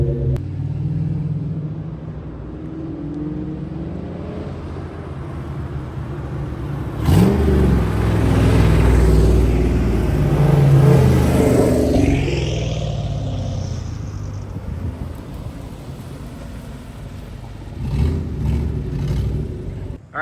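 Several Ford Mustangs, led by a clean Cobra with an RS and a Mach 1 following, drive past at a car show, engines rumbling and swelling loudly as they pass close by, then fading before another surge near the end.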